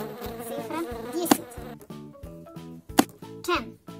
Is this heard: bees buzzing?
yes